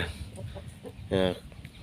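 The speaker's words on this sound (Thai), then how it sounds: "ไก่นะครับไก่" Free-roaming chickens on a rural farm near rice fields give soft scattered clucks, then one louder, sharper cackle partway through, with faint background voices and outdoor ambience.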